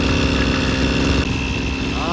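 A Mitsubishi gas-powered grass trimmer engine runs with a loud, steady, buzzing drone that holds at an even pitch without pausing.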